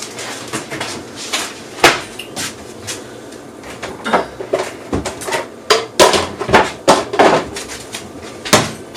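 Bowls and dishes clatter and knock against a kitchen cupboard while pulled pork and coleslaw are being made, a series of sharp, close, irregular clinks and thuds with no talking.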